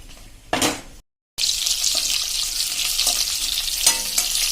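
Stuffed chillies shallow frying in a pan and being stirred, a loud steady sizzle that cuts out briefly after a short clatter, then resumes with scraping touches.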